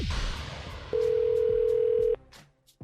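A steady telephone tone holds for about a second before a prank phone call, then cuts off abruptly, with background noise before and after.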